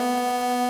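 Brief held synth lead note from Serum, one sustained bright tone with no audible talking, part of a phrase where notes glide down into the next.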